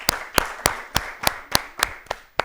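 Studio audience at an Ethiopian children's TV quiz show clapping in a steady unison rhythm, about ten crisp claps spaced evenly across a couple of seconds, with no talking over them.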